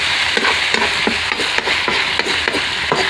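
Pork with lai greens sizzles loudly in a wok while a spatula scrapes and knocks against the metal in a steady rhythm of repeated strokes, close up with no voices.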